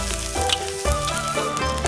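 Beef and white chili peppers stir-fried in a wok, sizzling loudly and continuously, with the scrape and knock of stirring breaking through the frying at intervals.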